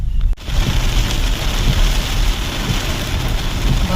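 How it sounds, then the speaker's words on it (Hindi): Heavy, sudden rain pours down steadily on a hill road past Bhowali toward Bhimtal, a loud dense wash that goes on without a break after a brief dip at the start, with no voices. "बारिश बहुत तेज हो गई है भाई सडन।"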